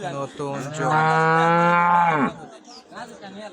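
An improved-breed dairy cow at a cattle market gives one long, loud, close moo lasting over a second, with faint crowd voices around it before and after.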